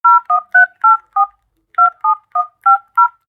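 Clear touch-tone telephone dialing: ten crisp DTMF beeps in two quick groups separated by a short pause, loud and alone with no talk.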